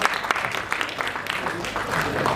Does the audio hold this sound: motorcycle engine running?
no